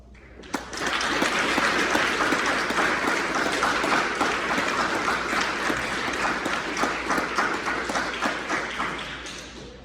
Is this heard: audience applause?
yes